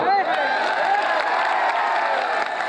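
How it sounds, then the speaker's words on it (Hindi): Applause and cheering from an audience at a live romantic ghazal mushaira, a dense steady roar of clapping with whoops, heard over a reverberant hall with singing or music underneath throughout. "ताली बजाओ।"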